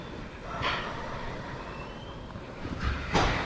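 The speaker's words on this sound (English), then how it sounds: "Deep inhales and exhales." Deep, forceful breaths during a yoga practice: a near, airy exhale early on, then another pair of strong breaths toward the end, over a soft room hum.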